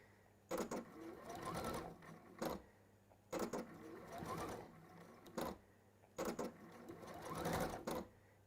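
A sewing machine stitches fabric in three short bursts, each a rapid mechanical whirr opened and closed by sharp clicks, with quiet pauses between runs.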